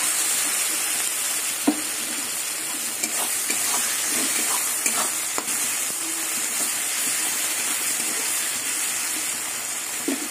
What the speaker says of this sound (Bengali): টমেটো আর রসুন কিছুক্ষণ নাড়াচাড়া করে নেব।